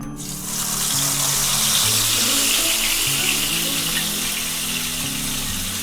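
Marinated chicken dropped into a quarter cup of hot oil in a pan for street-style chicken tikka biryani, giving a steady, loud broadband sizzle that swells after the first half second and holds throughout, with no talking.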